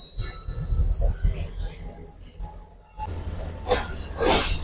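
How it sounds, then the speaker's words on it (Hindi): A passenger train leaving Karachi City station rolls along railway tracks, its wheels squealing with a long high whine, then rhythmic clattering and rumbling as it picks up speed, heard from on board. "जो रेलवे की अपनी जो साउंड बनता है ना ट्रेन की पटरी के बाद चकाचक वाला और खटाखट वाला, तो वो आना शुरू हो गया है"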